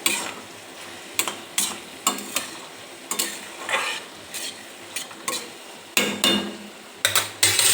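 Metal lid clanks and scrapes against a pan of cooking ridge gourd curry, a series of sharp, close knocks repeating irregularly over quiet kitchen background.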